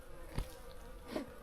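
Honeybees at an opened hive in late summer make a soft, steady buzzing close by, with a couple of brief louder swells as individual bees pass near.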